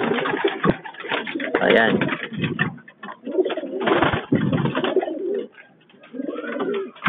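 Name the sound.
pigeons cooing in a loft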